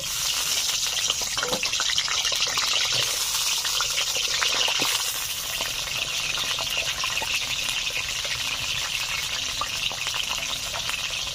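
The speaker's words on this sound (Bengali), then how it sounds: "তেল গরম হয়ে গেছে, আলু দিয়ে দিচ্ছি" Potatoes drop into hot oil in a pan for a village-style chicken curry, giving a steady, loud frying sizzle that crackles continuously up close, with no talk.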